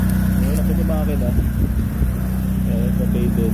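A used Nissan Sentra's engine idles with a steady low hum throughout, while people talk over it nearby.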